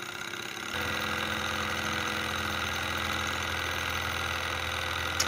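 A small, well-made Stirling hot air engine runs at low speed, a steady, even mechanical hum with a light rhythmic beat that starts abruptly and continues alone and unchanged.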